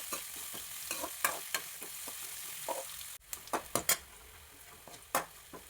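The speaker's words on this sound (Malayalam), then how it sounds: "അത് നന്നായിട്ടൊന്ന് വഴറ്റുക, ഒന്ന് വാടി വരട്ടെ." Onion, green chilli, garlic and curry leaves sautéing in hot oil for a green gram curry: a steady close sizzle with repeated scraping stirs and light ladle clinks against the pan, no talking.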